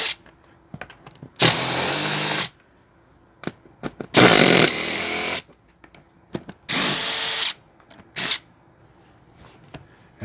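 A power drill fitted with an 11 mm socket backs out seat armrest bolts in three loud, close bursts of whirring, each about a second long, separated by quiet pauses with small clicks and handling knocks.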